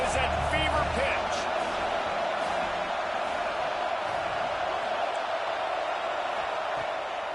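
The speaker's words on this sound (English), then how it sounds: "this crowd is at fever pitch" A college football stadium crowd at Oregon versus Michigan State roars steadily on a third down in the red zone, a dense, constant wall of cheering with a commentator's voice running over it.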